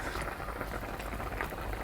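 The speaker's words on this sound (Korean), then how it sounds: "팔팔 끓는데요" Water boils hard in a pot while cooking chashu pork, a dense, steady bubbling and hissing that stays loud and even throughout, with no voices.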